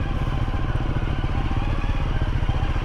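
An off-road motorcycle creeps along a slippery clay trail in the forest in first gear, its engine a steady, close, low-pitched thumping putter with a rapid pulsing beat and no speech.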